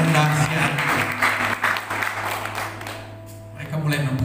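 Church congregation applauding at a worship service, a steady dense wash of clapping throughout, mixed with a sustained low musical tone and some voices underneath.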